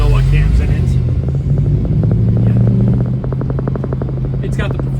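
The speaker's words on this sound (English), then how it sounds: "Motor's been rebuilt, a little bit bigger than stock camshaft in it. Tell by the idle." A rebuilt 1970 Dodge Challenger R/T convertible engine with a bigger-than-stock camshaft and Performer RPM intake idles loudly and lopes, its steady low rumble pulsing throughout while people talk close by.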